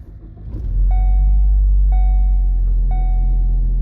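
A car with a 2-litre inline 4-cylinder engine and push-button start cranks briefly and fires up, settling into a loud, steady idle hum close by.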